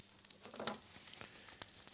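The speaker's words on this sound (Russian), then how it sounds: "Пока я положу вот этот баклажан отжатый, пусть он жарится один" Eggplant slices frying in oil in a pan, a soft steady sizzle with scattered crackles and a few sharper pops, heard alone without talk.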